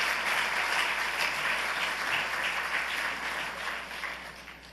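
A church congregation applauds steadily, dense clapping filling the room before slowly fading toward the end.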